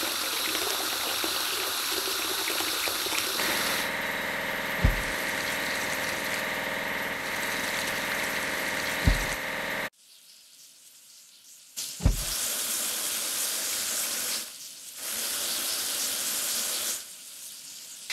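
Water sprays in a continuous loud hiss to wash a bucket lift truck in a children's construction game, with a few sharp clicks, a sudden break and a return of the spray.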